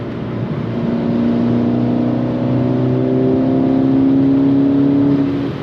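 A tuned FBO Volkswagen MK6 GTI engine pulls hard under acceleration, its loud rising tone climbing steadily for several seconds from inside the car, alone without talk.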